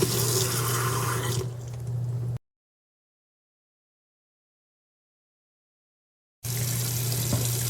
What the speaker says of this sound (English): you're going to fill your sink with hot, soapy water